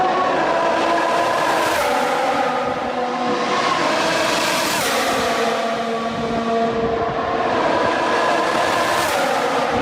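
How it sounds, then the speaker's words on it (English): Race cars roaring through a tunnel, engine notes echoing and sweeping past in loud continuous waves with shifting pitch, no talking. "how the cars sound going through the tunnel"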